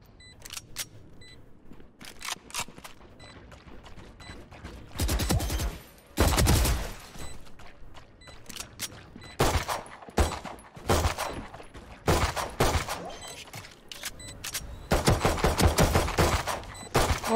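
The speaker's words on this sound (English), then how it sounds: "Oh, it's a shotgun pistol." A shotgun pistol fires in the tactical shooter game Valorant, loud sharp blasts spread through the stretch, some single and some in quick clusters, with other game effects filling the gaps.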